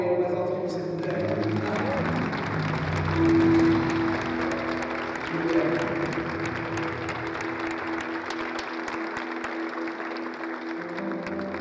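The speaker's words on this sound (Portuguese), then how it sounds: "aplauda aí o mais alto que você puder" An audience at a church gathering applauds loudly and steadily for about twelve seconds, a dense wash of clapping that swells briefly in the middle, with voices calling out over it.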